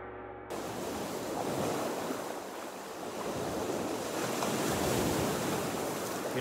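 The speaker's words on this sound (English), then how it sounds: "You can hear the waves are really coming in." Ocean waves roll in on a Cape Breton beach with a continuous loud wash of surf, swelling and easing, with wind buffeting the microphone and no talk.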